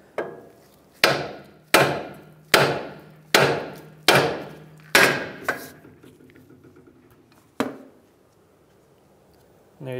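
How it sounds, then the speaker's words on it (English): A 5-pound sledgehammer strikes the threaded end of an inner tie rod on a 2007-2015 Mazda CX-9, about seven sharp metallic blows in a steady rhythm with a lingering ring, then a final lone hit. "we can go ahead and hammer down on our threaded portion here. So we're going to do that with a 5-pound sledge"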